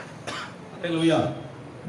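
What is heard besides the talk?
cough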